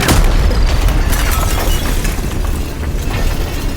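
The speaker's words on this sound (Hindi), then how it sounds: "लेकिन तभी अचानक एक जोरदार धमाका हुआ" A loud, dense explosion sound effect for a spy audio drama: a sharp burst with shattering debris that rumbles on continuously, heavy and close, with no voices over it.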